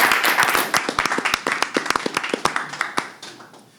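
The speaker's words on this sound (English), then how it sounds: "Give our contestants, all the contestants, one more round of applause" Audience applauding contestants at a pitch competition event, with distinct sharp claps close by over a steady wash of clapping that gradually thins out.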